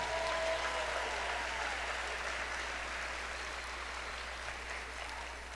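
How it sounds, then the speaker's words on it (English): Commencement audience at a Samuel Merritt University graduation applauds in a steady, even wash of clapping that fades slightly over a few seconds, distant and soft with no voices over it. "give a round of applause"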